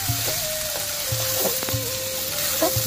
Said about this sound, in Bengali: লবণ দিয়ে চালগুলোকে আরও ভালো করে ভেজে নিতে হবে।